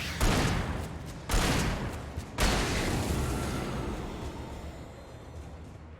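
Shotgun blasts in Alan Wake Remastered: three loud, close booms about a second apart, each trailing off into a long rumbling decay, with no talk.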